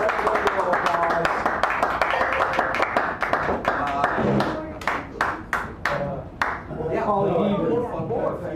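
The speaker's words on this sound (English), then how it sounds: "Please give him a round of applause." At a poetry open mic in a San Francisco cafe, a small audience claps in scattered, distinct hand claps rather than a dense roar, while people talk over and after the clapping.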